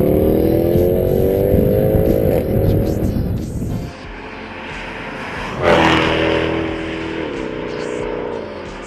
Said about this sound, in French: dépasser les 5000 tours minute, la voiture devient encore plus brutale